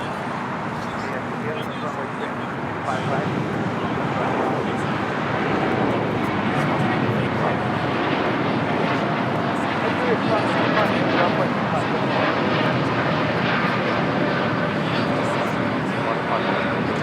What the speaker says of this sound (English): That is American Airlines 469 taking off to Chicago O'Hare